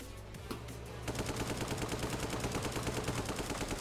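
Rapid automatic gunfire in a LEGO City police chase video game, a fast even string of shots that breaks in after a second and keeps a steady rhythm, loud and close, with no talk.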